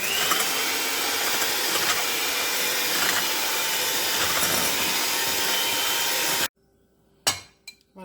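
Eggs and sugar being whisked for tiramisu cream, a loud continuous whirring mixer sound that runs steadily and then cuts off, followed by a couple of faint clinks.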